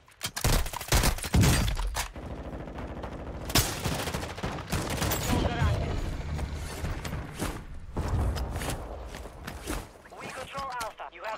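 SP-X sniper rifle shots in the shooter game Warzone, several sharp loud cracks scattered across the stretch with gunfire, mechanical clatter and game noise between them, under an excited voice.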